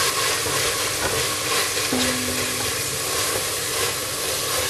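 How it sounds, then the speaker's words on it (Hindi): Ginger garlic paste fries with onions in a pan, giving a steady, dense sizzle with stirring scrapes and a brief tonal squeak partway through. The frying is close and continuous. "यहाँ पे जिंजर गार्लिक पेस्ट भून रहा है"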